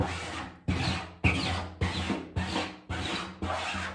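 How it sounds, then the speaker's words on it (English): A piece of card stock scrapes leftover ink off a screen printing screen in seven firm, evenly spaced rasping strokes, close and dry, with no talking. "Just get off as much of the ink as possible and put it back into the container."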